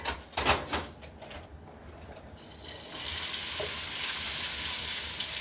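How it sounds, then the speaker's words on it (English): Vegetables for fajitas hit a hot pan after a few knocks and clatters, then a steady, loud sizzle of sautéing fills the rest. "Saute those up real nice and fiery"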